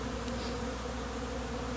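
Honeybees from a large abandoned hive drone in a steady, dense buzz near the hive entrance, a continuous close swarm hum with no voices.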